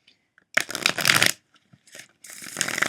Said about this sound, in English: I'm going to give these one more shuffle